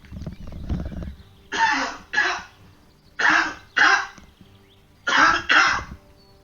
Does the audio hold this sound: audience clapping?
no